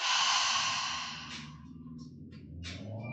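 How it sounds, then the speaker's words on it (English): A slow, breathy exhale through the mouth during a guided yoga breathing exercise, a soft airy rush that fades out, followed by quieter breaths, heard close and alone. "And exhale through the mouth."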